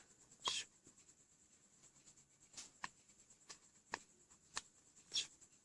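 Paper shaped like a banknote being folded for a coin offering, a few sharp, quiet crinkles and creases spaced irregularly against near silence.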